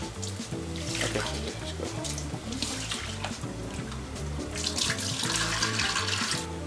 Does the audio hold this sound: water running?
yes